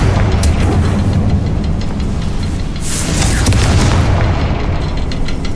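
In a wizarding video game, a Confringo blasting spell erupts in a loud, close explosion with deep rumbling booms and crackling bursts that carry on for several seconds.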